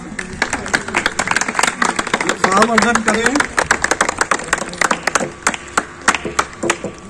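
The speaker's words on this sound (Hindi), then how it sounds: "तालियों से स्वागत करेंगे आप।" Audience clapping at an award and medal ceremony, a steady patter of claps that runs under someone speaking over a microphone throughout.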